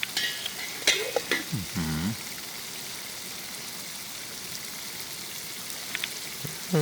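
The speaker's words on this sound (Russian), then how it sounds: "У нас тут жарятся. Очень аппетитно выглядят пирожки." Pirozhki pies fry in a pan, giving a steady close sizzle with occasional sharp crackles and clinks, and no speech over it.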